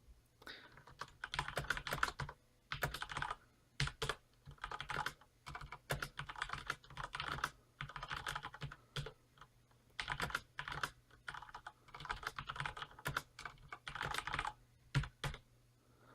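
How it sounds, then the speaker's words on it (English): Rapid clacking keystrokes on a Corsair Vengeance K70 mechanical keyboard with Cherry MX Red switches, typed in bursts with short pauses between, close and fairly loud. "I'll start typing so you can kind of get a feel for what it sounds like."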